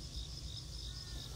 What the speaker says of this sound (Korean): 벌써부터 풀벌레 귀뚜라미 울음소리